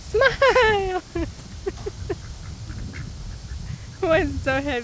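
A big farm duck quacks in loud, close bursts, a rapid run of calls at the start and another cluster near the end, with quieter calls and background noise between.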